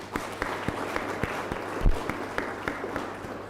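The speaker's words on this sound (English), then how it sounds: "Please, clap your hands." Audience applause for a professor at a public lecture, with scattered, uneven claps rising and falling at a moderate distance over a steady room hum.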